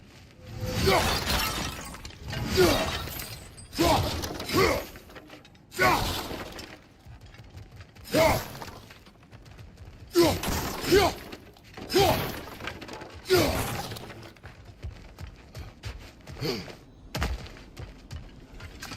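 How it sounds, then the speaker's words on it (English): Objects smash and shatter one after another in God of War Ragnarök, with sharp breaking crashes and thuds coming in irregular bursts, some quick pairs, separated by brief quieter gaps. "back to smashing through things for fun and profit"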